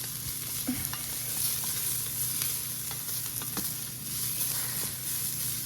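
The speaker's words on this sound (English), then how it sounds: "where they're starting to get translucent and getting some sear on them" Onions frying in a pan on sear mode as they turn translucent, a steady close sizzle broken by light scrapes and taps of stirring, with no talking.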